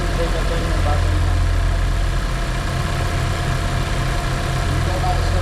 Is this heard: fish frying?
no